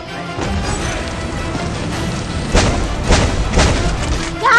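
Bomb blasts in the Free Fire battle royale game: a series of muffled booms hit around the middle and end of the moment, over a steady rumble of in-game noise.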